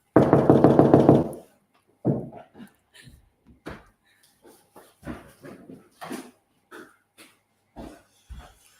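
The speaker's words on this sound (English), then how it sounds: "Hang on, I'll just knock." A rapid series of knocks on a door at home rings out loudly at the start, then quieter scattered sounds follow, including what seems to be a small dog whimpering and shuffling nearby.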